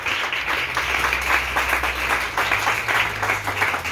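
A church congregation claps and cheers in sustained praise at a Sunday morning service, a dense, steady wash of applause lasting throughout with a low hum beneath.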